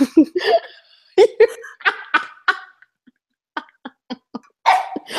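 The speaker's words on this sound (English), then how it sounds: "My dog's barking." A pet dog barks in short excited bursts, loud and close, in a home setting, with laughter and chatter from people talking nearby.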